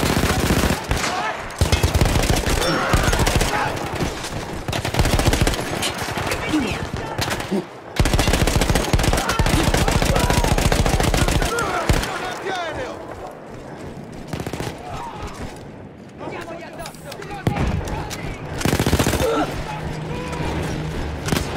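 An Austro-Hungarian machine gun firing in the World War I shooter Battlefield 1, with long, loud, close sustained bursts broken by short pauses and mixed with other battlefield gunfire and booms.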